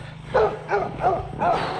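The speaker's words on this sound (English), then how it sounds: "He's a puppy bull mastiff" Bull mastiff puppy giving several short yipping barks and whimpers in quick succession, close by, over a low steady hum outdoors.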